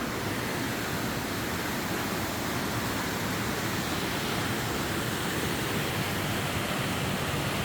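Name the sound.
creek water flowing under a bridge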